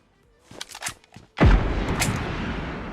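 A few faint clicks, then one loud, close burst of gunfire with a booming decay that rings on, from a PUBG Mobile match.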